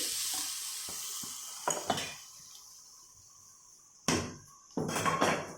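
Ghee goes into a hot pan while chicken curry is cooked, bringing a brief sizzle between quiet clinks of a utensil against the pan and two louder bursts of frying later on.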